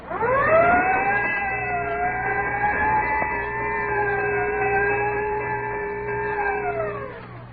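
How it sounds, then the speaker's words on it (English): A Texaco Fire Chief radio program sound effect: a wailing siren rises, holds a long sustained howl and winds down, loud and close, with a faint bell stroke partway through. "Whenever you hear the siren and bell, think of Texaco Fire Chief gasoline."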